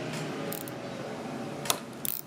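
A ratchet wrench turns a 12mm bolt on a Yamaha FZ-07 motorcycle brake line banjo fitting, giving quiet close mechanical clicking with a couple of sharper metallic ticks near the end.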